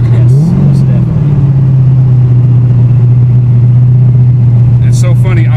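A BMW E36 M3 fitted with a 7.1L LS2 V8 idles loud and close, holding a deep, steady drone after a brief blip, with occasional background noises and talk likely present.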